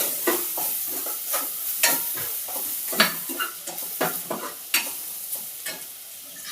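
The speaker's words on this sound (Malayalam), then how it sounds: "അപ്പൊ ഇത് നല്ലപോലെ മുരിഞ്ഞു വന്നിട്ടുണ്ട് കേട്ടോ." Onions, green chilies, chili, turmeric and pepper powders sizzle in a pan while a spoon repeatedly stirs and scrapes the pan, giving close, rhythmic scraping over a steady frying hiss.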